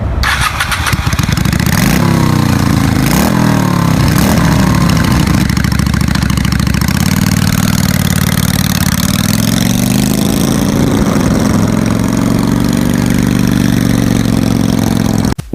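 A Honda Steed 400 V-twin motorcycle cranks and catches, revving in a few quick blips before settling into a loud, steady, throbbing idle right up close for the rest of the span, with no voices.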